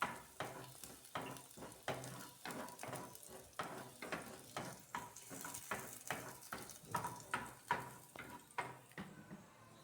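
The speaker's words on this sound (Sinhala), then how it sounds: "අපි තලාගත්තු ඉඟුරු සුදු ලූණු ඉස්සලා එකතු කරගන්නවා. එකතු කරගෙන හොඳට බැදෙන්න දෙනවා." Ginger garlic paste fries in oil for a fish curry, a soft close sizzle punctuated by a regular rhythm of spoon strokes against the pan, roughly two per second, with no talk.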